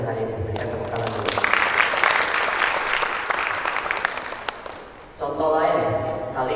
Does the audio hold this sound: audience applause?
yes